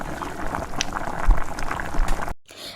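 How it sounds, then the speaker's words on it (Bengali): Gravy for fried fish roe fritters (macher dimer bora jhol) bubbling on the stove while being stirred, a steady close simmer with scattered pops and light scraping, ending in a brief quiet gap. "দেখো গ্রেভিটা এখন ফুটতে শুরু করেছে"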